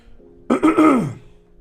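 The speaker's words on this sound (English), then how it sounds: "Sorry if I'm clearing my throat a lot." A man clears his throat once, a short rough rasp lasting about half a second, close and fairly quiet, with near silence before and after.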